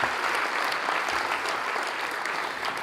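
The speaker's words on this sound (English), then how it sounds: "So a big round of applause for them." Dense, steady applause from an audience at a city State of the City address, many hands clapping close and loud without pause.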